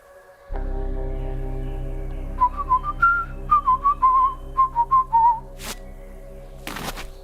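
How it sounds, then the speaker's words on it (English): A whistled tune of short rising and falling notes, about a dozen in a lively run, rings clearly over a low steady hum during a scene at a door in the video game Trüberbrook, ending with a couple of sharp knocks. "Whistle 2 times"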